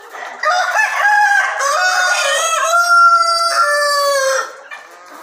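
A free-range native village rooster crows loudly with a long, drawn-out call, with hens clucking close by on a chicken farm.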